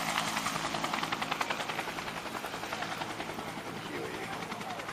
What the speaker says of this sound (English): Like a Cobra gunship flying back there making all that noise.